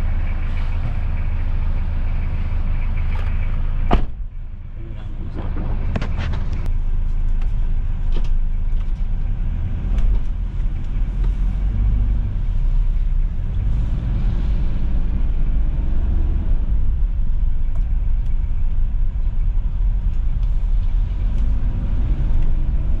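A Hyundai Starex TCI van on a road test, one that is hard to start and stalls while driving, gives a steady low engine drone and road rumble from inside the cabin, with a few brief knocks and clicks early on.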